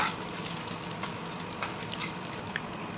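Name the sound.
vegetable pakora frying in hot oil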